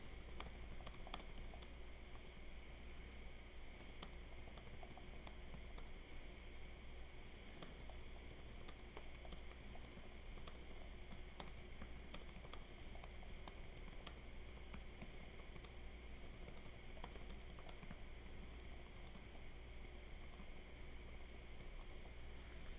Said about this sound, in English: let me test this typing thing real quick